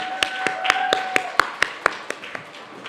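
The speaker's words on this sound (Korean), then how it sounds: "40기 나올 때까지 박수 한 번만 쳐주세요." At a Sunday young-adults church service in Seoul, hands clap in steady unison, about ten sharp, evenly spaced claps over a faint sustained tone.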